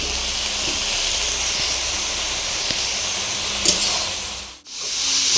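Green chillies hit frying greens with a loud, steady hiss of steam and sizzle close by, briefly cutting out before the hiss resumes, with no voices.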